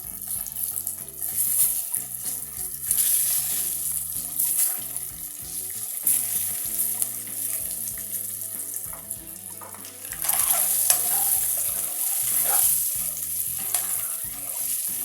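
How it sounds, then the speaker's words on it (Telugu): Eggs fry in hot oil in a pan for an egg curry, a constant crackling sizzle with occasional stirring scrapes and brief watery bursts throughout. "గుడ్లని ఫ్రై చేసుకుందాం ఫ్రెండ్స్"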